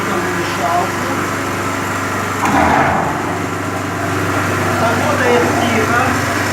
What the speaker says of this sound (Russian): Так, заводим генератор. Включаем бетономешалку.